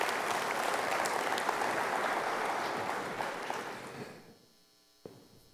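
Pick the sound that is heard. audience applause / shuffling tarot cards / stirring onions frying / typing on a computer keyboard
audience applause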